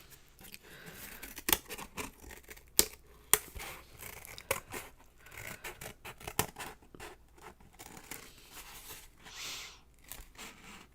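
Scissors snip through paper to cut out a traced shape during a craft session, a series of sharp, irregular close clicks and rustles with brief pauses between cuts, fairly quiet overall.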